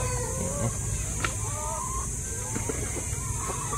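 Chickens cluck and call over a steady noisy background, with a few short bird calls scattered through the clip and no one speaking.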